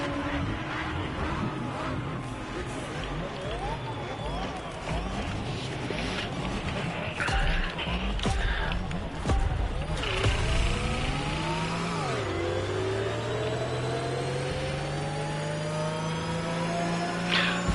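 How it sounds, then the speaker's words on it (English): A car engine in The Crew Motorfest racing game revs loudly and continuously, with repeated rising and falling pitch sweeps as it accelerates and shifts gears, dense and close throughout. "motor sounds"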